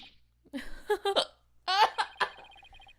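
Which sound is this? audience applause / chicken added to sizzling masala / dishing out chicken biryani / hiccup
hiccup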